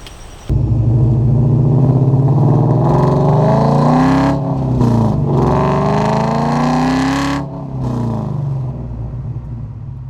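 A 2001 Ford Mustang GT swapped with a 5.0 Coyote V8 drives, its engine kicking in loudly, revving and pulling through gears with rising and falling pitch, then easing off near the end, no talk.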